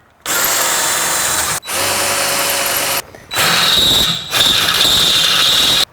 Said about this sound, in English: I'm going to first drill the hole with a 1/4 inch drill bit and then finalize it with a 7/16 drill bit.